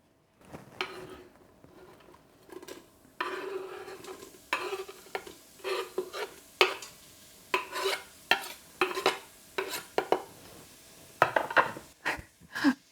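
Onions sizzle quietly in a frying pan while a utensil repeatedly stirs and scrapes, producing a rhythmic series of clinks and scuffs with no talking.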